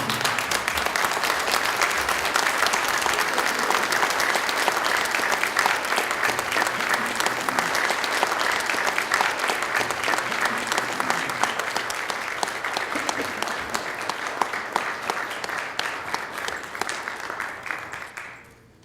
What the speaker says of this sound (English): Please stand and give all of the community leaders a warm round of applause.